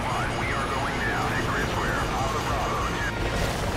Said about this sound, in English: the helicopter still goes down